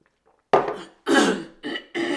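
A person clears their throat several times in quick succession, four rough, close bursts separated by short pauses, with no speech between them.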